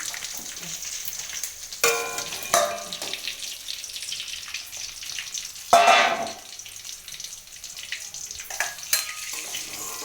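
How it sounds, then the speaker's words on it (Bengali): Chicken fries in a pan with a soft ongoing sizzle, broken by a few louder clattering stirs and scrapes, heard up close with no talking. "চিকেনটা ভাজা হয়ে গেছে। এবার নামিয়ে নেব, গ্যাসটা অফ করে দিই।"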